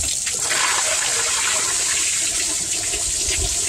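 Water gushes steadily through a car engine's radiator and cooling system during a coolant flush, a constant hissing, splashing rush without pauses.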